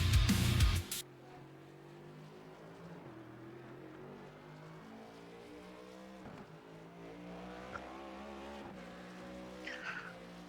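Race cars lap the Bristol half-mile oval during qualifying, a steady engine drone with shifting pitch sweeping past, a loud burst at the start and a brief higher whine near the end.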